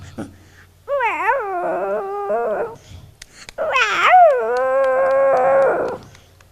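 At a stage mimicry show, a human voice imitates a hungry dog whining and howling in two long, wavering, high-pitched cries separated by a short pause.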